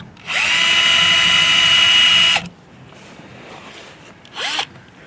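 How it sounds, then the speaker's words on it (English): A power drill bores two holes into a 2023-2024 Volkswagen Golf GTI during an accessory install: one loud, close two-second whining run that stops abruptly, then a short second burst after a pause. "We're going to drill our 2 holes."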